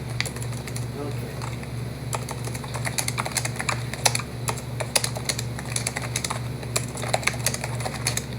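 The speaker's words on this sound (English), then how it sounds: "Clicking up a storm," Rapid, steady typing on a computer keyboard, crisp clicks close by over a constant low electrical hum, with occasional faint chirps in the background.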